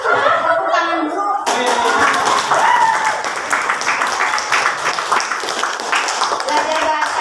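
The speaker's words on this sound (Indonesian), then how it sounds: "Jadi, tepuk tangan dulu." A class of students claps hands together at the end of a lesson, a lively, close burst of rapid clapping mixed with chatter and giggles, preceded by a teacher's voice.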